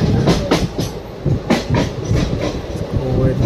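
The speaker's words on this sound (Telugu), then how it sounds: "ట్రైన్ అయితే స్కిప్ చేసేస్తాం సార్." The Tirupathi Express runs through a station on the Rajahmundry to Vijayawada line, heard from on board as a loud, steady rumble with repeated clickety-clack wheel beats over the rail joints.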